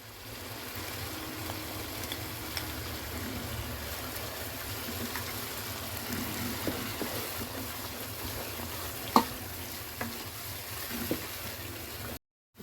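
Garlic and ginger paste sizzles and fries in hot oil in a pan while cooking aloo chicken, added after green chillies, giving a steady, close hiss with a few small pops.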